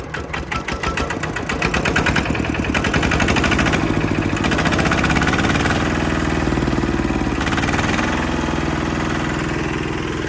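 A Kubota diesel rotary tiller engine runs close up with a loud, knocking, chugging idle, then the revs climb and hold at a higher, busier drone.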